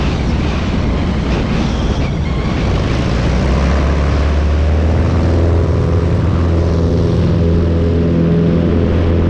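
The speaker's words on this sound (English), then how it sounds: "my touch and goes, which is where you land but you take off straight away" Light propeller aircraft doing touch-and-go landings on a short runway, a loud steady engine drone with wind buffeting, heard from close by throughout, with a few brief spoken words.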